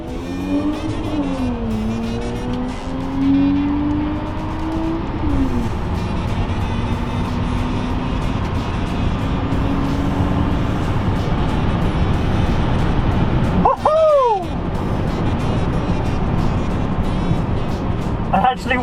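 A Hyundai Kona Electric press car accelerates down a quarter-mile drag strip, its rising electric motor whine sweeping up in pitch over steady road and wind noise, with a brief sharp pass of another vehicle late on.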